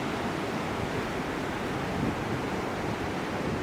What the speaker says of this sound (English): Strong waves today because strong wind.